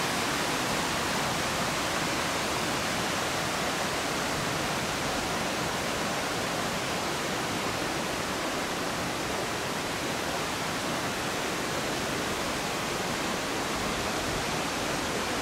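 Waterfall on Lone Pine Creek at Whitney Portal, a steady, loud, unbroken roar of falling water that fills the whole scene without pause.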